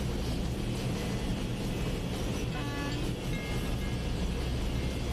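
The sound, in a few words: train running at full speed in a train simulator game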